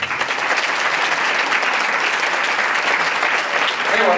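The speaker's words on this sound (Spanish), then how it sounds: "Un aplauso para Dani." A crowd claps in steady, dense applause that holds at an even level throughout, swelling slightly at the very end.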